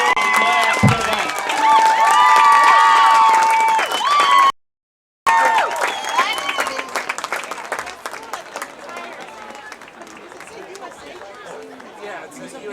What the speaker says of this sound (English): Please give a big round of applause to this world-class cadet.